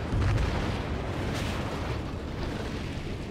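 A heavy naval gun salvo from a Kongo battleship in World of Warships booms at the start, and its deep rumble sustains and slowly fades through the rest, loud and close with no talking.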